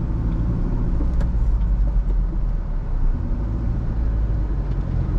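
A 2006 Honda City with a 1300cc engine is driven on the road, giving a steady, close interior engine drone and road rumble that holds even throughout, with no voices.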